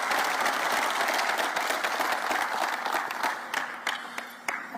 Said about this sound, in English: It's rare that everybody claps for a coach